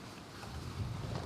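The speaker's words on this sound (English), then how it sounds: "probably because of how strong the wind is right now" Strong gusting wind on an outdoor pickleball court buffets the microphone with a low, rumbling roar that swells louder toward the end, with no clear voices.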